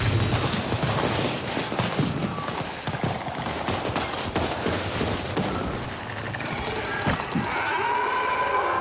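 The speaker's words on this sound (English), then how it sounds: "Let's distract them with firecrackers and make a run for it." Firecrackers going off in the video game Dying Light The Beast, a rapid crackling string of sharp pops and bangs that runs on and off for several seconds amid chaotic background noise.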